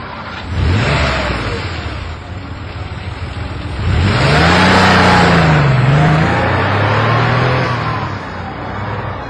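A car engine starts and revs as the car pulls away, rising in two surges with a pitch climb and a gear change, fairly close and loud, with no talk.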